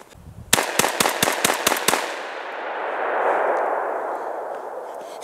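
A Fabarm P.S.S.10 practical shotgun fires seven rapid, loud shots in under two seconds, followed by a long rolling echo that slowly fades outdoors.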